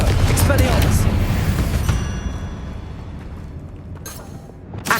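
Booming spell explosions from Bombarda and Confringo in Hogwarts Legacy, a heavy rumbling blast up front that decays into debris and smaller cracks, with a sharp bang near the end; a voice speaks among them.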